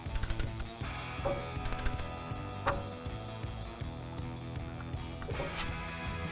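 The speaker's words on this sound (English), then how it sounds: "use the ratcheting feature and expand it out. And while it's expanding out, it's compressing the pistons inside the caliper" Ratcheting caliper piston compressor tool pressing the brake pistons back into the caliper of a 2019-2023 Chevrolet Silverado 1500, heard close as steady mechanical clicking and grinding with sharp ratchet ticks throughout.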